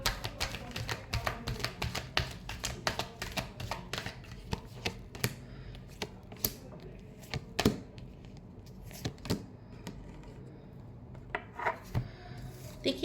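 Tarot cards being shuffled by hand: quick, irregular riffles and taps keep coming throughout, close and fairly quiet, with no talking.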